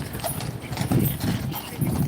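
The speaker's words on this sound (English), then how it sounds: "one horse is very enthusiastic" Horse Guards horses clip-clopping on a hard street surface, with rhythmic hoof strikes in quick, uneven clusters close by and a faint murmur of people in the background.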